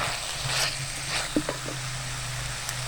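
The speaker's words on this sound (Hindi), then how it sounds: "चिकन को हम भूनते रहेंगे इसका कलर चेंज होने तक।" Chicken for shami kabab sizzles as it is browned in a pan, a steady close hiss with a few brief clinks and stirring knocks partway through, no talking.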